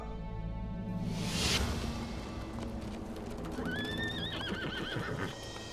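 Horses in a historical Turkish setting whinny loudly, with a whooshing sweep and a continuous patter of hooves clip-clopping underneath.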